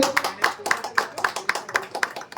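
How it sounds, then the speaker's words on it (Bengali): Hand claps at a Vivo V70 phone launch event in Basirhat, a steady run of about nine sharp, evenly spaced claps, fairly close and clear. "সবাই যদি একটু জোরে হাততালির সাথে।"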